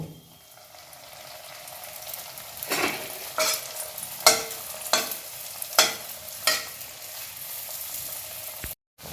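Khaja pastries deep-frying in hot oil, a rising bubbling sizzle punctuated by about six sharp spatula clacks at a steady pace, close and without voices.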